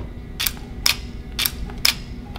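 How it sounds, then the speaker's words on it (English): A camera shutter clicks open and closed four times in quick, evenly spaced pairs, each a sharp close mechanical snap over a low steady background hum, with no talking. "That click, that's the shutter opening and closing."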